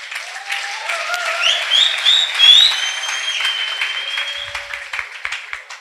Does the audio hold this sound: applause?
yes